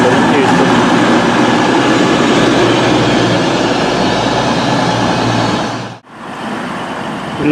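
A Virgin class 221 diesel train, unit 221 142, pulls out of a station on a service to London Euston, its engine roar and rolling rumble loud and steady before a brief dip near the end.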